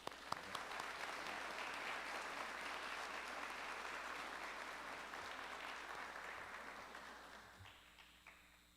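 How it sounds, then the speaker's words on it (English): Sustained applause from a crowd at a law enforcement training graduation, steady clapping throughout that tapers off near the end. "I'd like to give them a quick round of applause"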